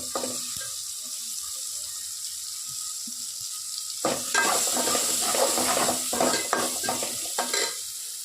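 Sliced onion, tomato, coconut, fennel and chillies sautéing in a pan: a soft hiss at first, then from about midway a louder crackling sizzle with scraping stirs, close and continuous.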